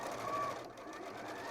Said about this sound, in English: now we're going to sew 1 centimetre around the outer curve